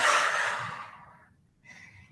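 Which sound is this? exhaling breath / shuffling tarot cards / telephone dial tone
exhaling breath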